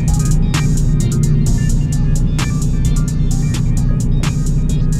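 A car running a 100-shot nitrous kit accelerates hard, with a loud, steady engine drone heard from inside and scattered clicks and rattles over it.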